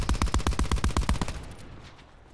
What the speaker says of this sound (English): Did we just cover fire and then somebody starts shooting?